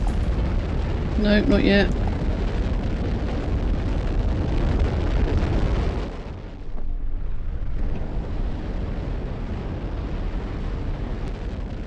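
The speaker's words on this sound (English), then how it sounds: "And another rocket returns" A rocket returns in the Automation Empire video game with a loud, broad rumbling roar that fills most of the clip, briefly cuts out, then resumes more steadily, while someone speaks over it.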